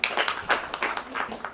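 An audience applauds at an Indian award ceremony honouring a world-record athlete, a dense, steady patter of many hands clapping close by for a brief moment.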